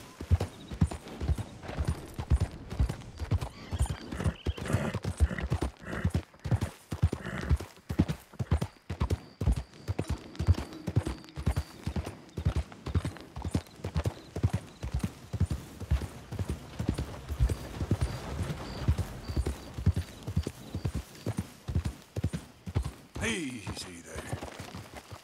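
Horse hooves clip-clop in a steady trotting rhythm on a path in the Red Dead Redemption 2 video game, close and continuous throughout, with a brief louder burst of other game sound near the end.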